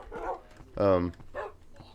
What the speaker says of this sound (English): Absolute wild dog.